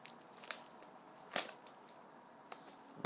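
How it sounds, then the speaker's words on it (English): Assassin's Creed Unity game packaging being cut open, quiet crackling plastic with a few sharp snips and crunches, one louder near the middle, close and without talk. "So I'm gonna cut this open."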